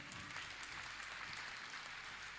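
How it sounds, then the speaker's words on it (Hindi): An audience at an outdoor Hindi poetry gathering claps in a continuous, fairly distant wash of applause, faint and even, with no speech over it. "जोगीरा खत्म हुए, तालियां बजाइए"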